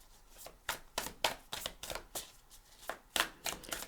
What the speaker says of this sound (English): I was just going to pull off the top of the deck for your reading, and I ended up shuffling instead